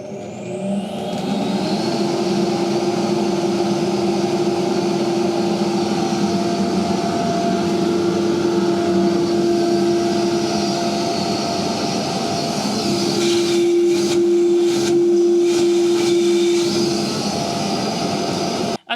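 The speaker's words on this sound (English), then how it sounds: "let's see if it works" A Cormak FM300 high-volume low-pressure dust extraction system spins up and runs loudly nearby, a rising motor whine settling into a steady roaring hum with a sustained tonal drone, plus a few knocks late on.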